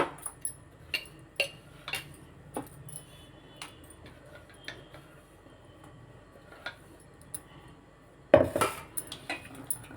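Ground batter is scraped and transferred into a bowl, with sparse sharp clinks and taps of utensil against metal, then a louder cluster of knocks near the end.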